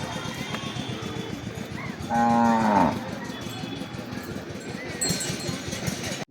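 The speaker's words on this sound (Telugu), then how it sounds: "గోవులు బర్రెలు." A cow or buffalo lets out one loud, drawn-out moo lasting under a second, set against steady outdoor ambience on the Govardhan hill pilgrimage circuit, where cattle and buffaloes rest under trees.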